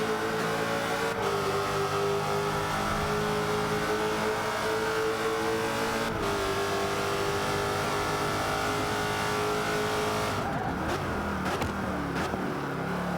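A car engine in Forza 5 revs hard and loud toward redline across a long straight, its steady rising whine holding before a brief shift and cutting off near the end.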